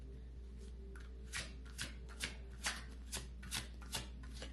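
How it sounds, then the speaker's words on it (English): A deck of tarot cards is shuffled to pull one more card for a spread, giving a run of crisp riffling bursts about every half second over a low steady hum, close and fairly quiet. "I feel like I want to pull one more card for this spread."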